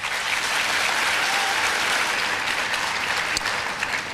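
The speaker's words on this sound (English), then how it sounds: "Let's give them a round of applause." Steady applause from an audience honoring students at a youth ambassadors for excellence ceremony, a continuous, moderately quiet patter of many hands clapping throughout, with no voices on top.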